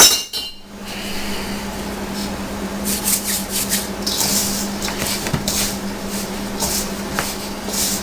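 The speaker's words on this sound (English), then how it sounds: "At this point you can start to knead it by hand." Soft hummus-recipe dough kneaded by hand, with quiet rubbing and pressing and a few soft thumps and light taps, steady and close with a faint background hum.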